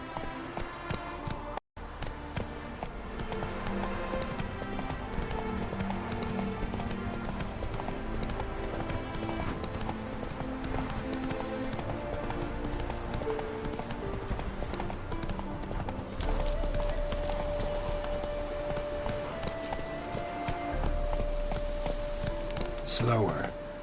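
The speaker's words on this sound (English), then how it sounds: "Run, Roach" Rhythmic hoofbeats of a horse galloping in The Witcher 3 video game, a steady clip-clop over continuous game music and ambience, with a brief gap early on.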